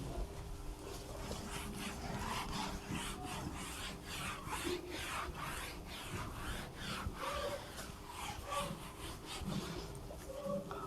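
Writing is rubbed out during a class 12 maths lesson: quiet, close back-and-forth scrubbing strokes repeat in a fast, even rhythm for several seconds, with no talk over them.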